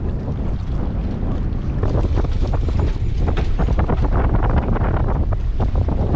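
Strong wind buffets a boat moored on the pontoons at Castle Bay, Barra, as a loud, continuous rumble with water sloshing close by. No voices are heard.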